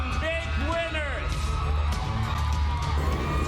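A studio audience at the PBB Big Night cheers and whoops for the big winners, a loud, dense crowd roar that continues without a break while a host talks over it.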